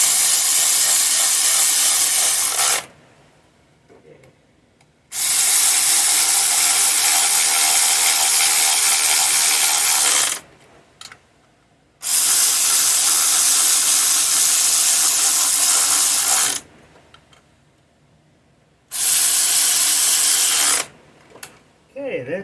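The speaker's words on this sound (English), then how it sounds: "I'm going to use my ratchet just to run these down a little bit snug." Ratchet spinning bolts down snug on the oil filter housing of a 2011 Mercedes GLK 350 with the M272 engine, heard as four long, loud bursts of rapid clicking separated by short pauses.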